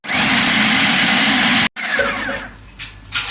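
A food processor grinds coarsely pounded falafel ingredients with a loud, steady motor whir for under two seconds, then cuts off, leaving quieter clinks and rustles.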